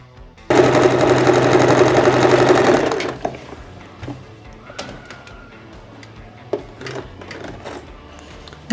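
Sewing machine runs steadily for about two and a half seconds while stitching a paper-pattern neckline piece, a loud continuous mechanical whir that stops abruptly, followed by quiet handling clicks and light taps.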